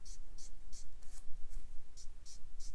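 A Copic marker's brush tip sweeps across paper in quick, evenly spaced feathering strokes, about eight short scratchy swishes heard close up against soft background noise.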